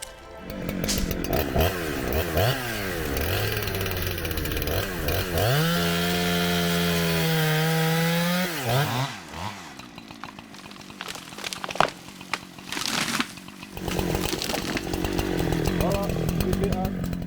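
Chainsaw cutting a 45-degree felling notch into a tree during logging on Tubuai island, running loud and continuous with pitch dips as the chain bites into wood, then easing off to idle and intermittent revving.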